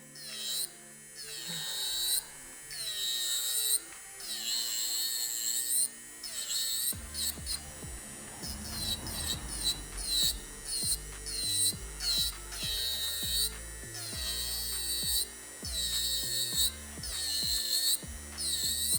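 A Candy Coat Holo Candy electric nail drill runs at 12,000 RPM with a high whining buzz, starting and stopping repeatedly in short bursts, while a low rumbling sound from handling underlies the later part.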